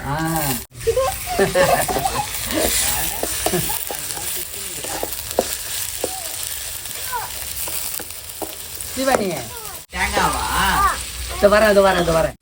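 Mutton sukka frying in a pan with ginger garlic paste, a steady sizzle with stirring scrapes running throughout, while people talk over it in Tamil.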